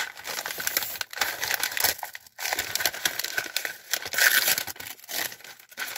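Plastic blister packaging from an advent calendar, stuck with tape, crinkles and crackles continuously up close, rustling and snapping in irregular bursts with brief quiet gaps.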